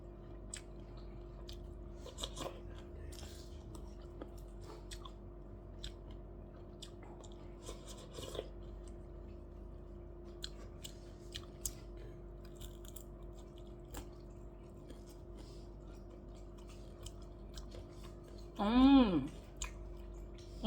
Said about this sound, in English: I just thought the eel was crunchy like that. I didn't think it was the spine.